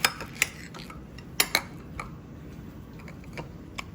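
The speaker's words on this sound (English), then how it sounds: "Slice open this banana, see if it's kind of bad" A knife slicing open a banana, a handful of sharp separate clicks and taps of the blade against a board, close by and alone over a quiet room background.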